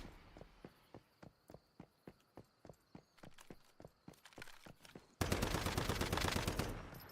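Gunfire in the Warhammer 40K Rogue Trader video game: a steady series of sharp single shots at a regular rhythm, then a sudden loud continuous burst of rapid automatic fire.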